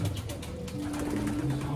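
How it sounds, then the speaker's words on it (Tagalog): Pet pigeons or doves coo up close in soft, throaty, drawn-out calls, several overlapping, over a dense low rumble. "Ayan, nandiyan yung mga ibon natin."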